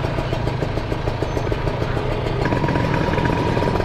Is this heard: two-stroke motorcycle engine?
yes